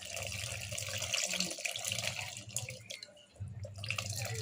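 Dissolved mixture pouring into a pan of home-cooked fish curry (meen kulambu), a steady watery splashing pour with a brief dip near the end before it resumes, close and moderately loud.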